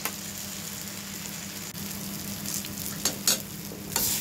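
Spice paste for Thakurbari-style potol with Gobindobhog rice frying in a pan, a steady close sizzle with a few louder stirring scrapes and crackles near the end.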